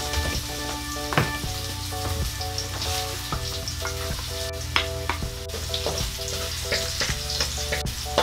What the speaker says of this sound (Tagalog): pwede ko na pong gisahin itong ating bawang